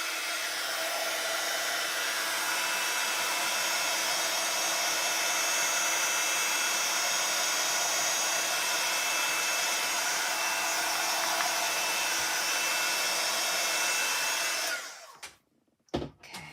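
A hair dryer blows steadily and loudly on ink over a stamped honeycomb journal page, a constant broadband whoosh that cuts off near the end, followed by a few faint clicks.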